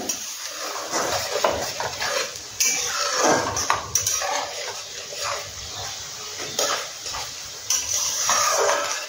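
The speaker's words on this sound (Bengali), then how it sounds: "পেঁয়াজটাকে একটু লাল লাল করে ভেজে নিয়ে 2 মিনিট আমি এটাকে ভেজে নিই" Onions being fried until reddish in a pan for a fish roe kofta curry, with clattering utensil and pan scrapes and stirring over a hissing sizzle, close and fairly loud with no talking.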